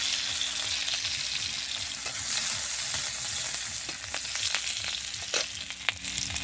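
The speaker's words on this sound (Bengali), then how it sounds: "অল্প করে একটু তেল দিই আলুটা কষিয়ে নেব" Potato and chopped green chili fry in a little mustard oil, giving a steady, dense sizzle throughout with occasional faint clinks and pops, no voices.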